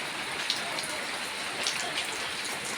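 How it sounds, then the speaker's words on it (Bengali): Heavy rain falls on a road on a stormy night in a dense, even hiss, with drops spattering close by and no voices. "ভালোই বৃষ্টিটা বেড়ে গেছে"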